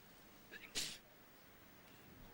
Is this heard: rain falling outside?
no